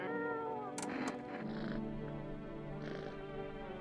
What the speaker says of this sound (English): Where's the cat? Ah, there you are. You are Kitty. Kitty. Talk to me, Kitty.